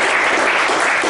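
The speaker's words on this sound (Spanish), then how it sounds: "Vamos a darles un aplauso" Steady, loud audience applause at a philosophy café session in San Luis Potosí, a dense wash of clapping filling the whole brief moment without pause.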